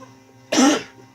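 A single sharp cough bursts out close to the microphone, brief and loud, standing out against a quiet background with a faint low hum.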